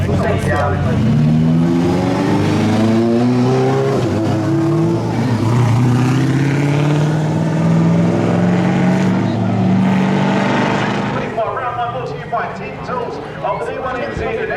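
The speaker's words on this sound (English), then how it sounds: "Brody Mayer initiates on the loud pedal" A drift car driven by Brody Mayer at the D1NZ drifting championship final revs hard on the throttle. The loud, continuous engine note rises and falls through several sweeps, then drops away near the end.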